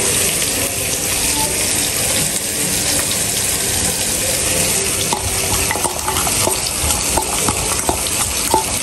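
Pieces of hilsa fish are mixed by hand with onion, green chili, turmeric and chili powder, giving a continuous wet squelching and rustling close up, with a few sharper clicks later and no voices.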